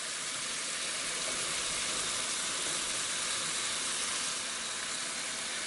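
Celery and the white tips of scallions sizzling in a hot pan, a steady, even hiss that holds at moderate loudness throughout with no voices.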